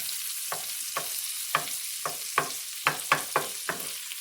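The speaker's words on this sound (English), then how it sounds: "Now we're going to add 4 tablespoons of flour. We're going to stir it all." A flour roux cooking in a pan for steak and creamed spinach, a steady frying hiss underneath with about ten distinct spoon scrapes and clicks in an uneven rhythm, close and clear with no talking.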